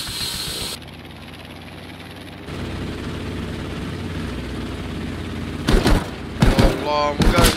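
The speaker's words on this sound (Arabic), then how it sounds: "وانا اشوفكم تشوفون فجأة يطلعون طيارات وراكم." Warplanes flying in the game Battlefield V, a steady droning engine hum with hissing wind, then loud roaring passes and gunfire bursts near the end.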